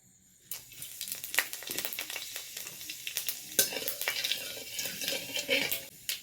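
Spices crackle and sizzle as they hit hot oil in a heated wok (kadai) for a papaya and chicken dish, with scraping stirs and busy popping bursts, close and steady with no talk.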